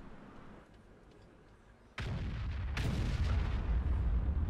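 A tank cannon fires in World of Tanks, a sudden loud boom at about two seconds followed by a sustained rumbling roar and a second blast-like burst.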